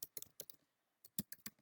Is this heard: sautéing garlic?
no